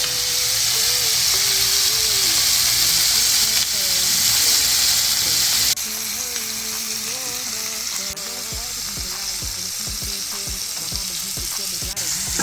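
Bacon fries in a pan with a loud, dense, continuous sizzle and crackle, later mixed with utensil scrapes and clinks near the end; a voice is faintly present at times.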